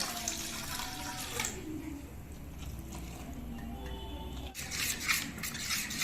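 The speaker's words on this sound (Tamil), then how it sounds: "இப்போ தண்ணியை ஊற்றி எல்லாத்தையும் நல்லா கலரி விட்டுக்குவோம்." Water poured into murukku flour in a bowl and stirred by hand, a steady close wash of splashing and sloshing that pauses briefly before a brighter burst of mixing near the end.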